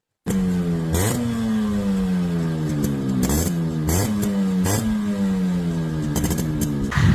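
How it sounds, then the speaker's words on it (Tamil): A tuned Yamaha RX motorcycle engine runs loud and close with a steady, throbbing beat, revved in several sharp blips over the rumbling idle, with no talking. "ஸோ இந்த வண்டியோட பீட் சவுண்ட் கேட்டிருப்பீங்கன்னு நினைக்கிறேன்"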